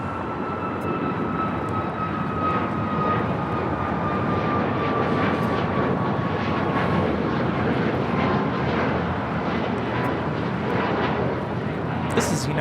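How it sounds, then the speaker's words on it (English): A United Airlines Boeing 737 MAX 8 taking off from Los Angeles airport, a loud continuous jet roar with a descending engine whine, steady throughout. "Taking off somewhere on a MAX 8."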